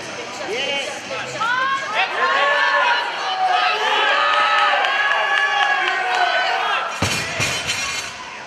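A crowd at the 2014 Raw Power Challenge powerlifting meet cheers and shouts after a deadlift, sustained loud voices and clapping, with a sharp slam near the end.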